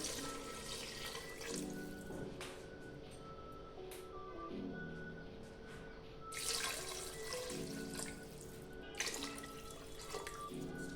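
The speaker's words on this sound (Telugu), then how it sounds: "నేను 3 గ్లాసుల నీళ్లు పోసుకుంటున్నాను" Three glasses of water pour and splash steadily into a pressure cooker for pulao, with brief pauses and a louder gush near the middle, no talking.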